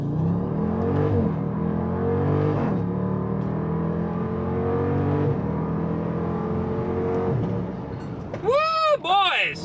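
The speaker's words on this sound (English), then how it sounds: "one more time, because it has custom launch control from the factory" An SUV launches hard with factory launch control, its engine note climbing through rapid gear shifts in rising sweeps, loud and close from inside the cabin, before voices cheer near the end.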